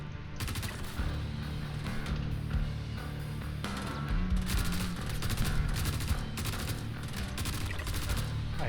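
Sustained video game gunfire, steady rapid machine-gun bursts with overlapping shots, loud and continuous over a low rumbling background.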